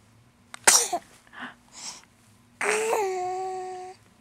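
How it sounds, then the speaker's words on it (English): A baby lets out one sharp sneeze close to the microphone, followed by soft babbling and a drawn-out high vocal sound, in a quiet room while playing on a jungle gym mat. "Good sneeze."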